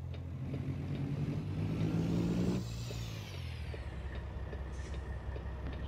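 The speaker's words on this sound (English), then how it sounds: "Let's hear this engine." A custom Peterbilt 389 truck engine runs with a steady, loud low drone that shifts and drops partway through, then settles into an even hum, with no talking over it.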